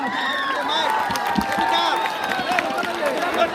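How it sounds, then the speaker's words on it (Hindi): A crowd at a Hindu temple welcome event for minister Mithilesh Thakur at Meral Devi Dham claps and cheers steadily, with voices shouting over the applause at moderate distance. "जोरदार ताली बजाकर स्वागत करें आप सब।"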